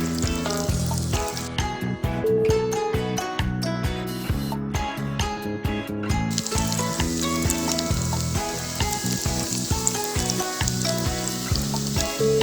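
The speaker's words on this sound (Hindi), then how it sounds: "आलू फ्राई हो गए हैं तो अब हम इन्हें निकालेंगे।" Pre-boiled potatoes fry in hot oil for dum aloo, giving a steady, close sizzling crackle that runs throughout with faint metallic clinks and stirring, and no voices.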